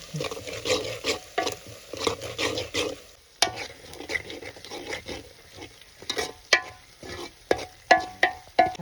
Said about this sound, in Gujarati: હવે મરચું નાખી દઈએ હવે આપણે હલાવી નાખીએ